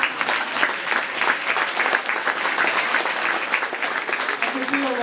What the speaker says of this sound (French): Donc on peut l'applaudir bien fort.